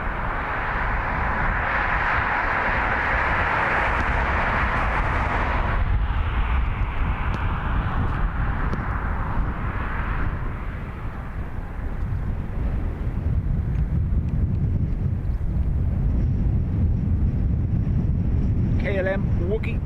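Qatar Amiri Airbus A330 passing by at Dublin Airport, a broad roaring jet rumble heard at a distance that slowly fades, with wind buffeting the microphone.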